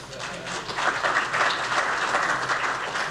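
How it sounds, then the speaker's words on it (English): An audience at an executive business conference gives a speaker a brief burst of applause, a dense, steady patter of many hands clapping together. "So I think he gets a round of applause for that."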